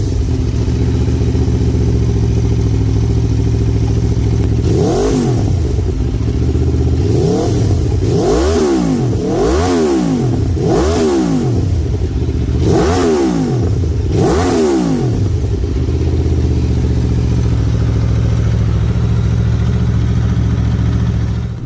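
Aprilia Tuono motorcycle engine revved hard at high RPM, a steady loud idle broken by a rapid series of about six sharp rising and falling throttle blips, close and alone.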